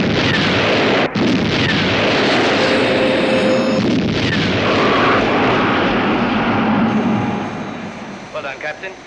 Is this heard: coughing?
no